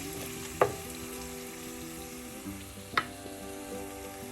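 Onions and spices sauté on a low flame for a spicy Kerala sole fish curry, with a soft, steady sizzle and two sharp clinks of a spoon or spatula against the pan, heard close with no voices.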